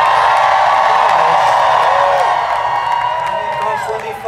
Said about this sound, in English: I think I hear people cheering.